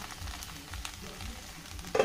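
Okra with garlic and onion frying in a pan for a simple Indian sabzi, a soft steady sizzle with low bubbling, heard alone at moderate level.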